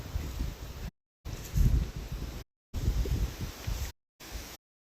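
Wind gusting through woodland trees on a windy day in Oklahoma, a rushing, rustling roar that swells and fades in several bursts separated by short silences.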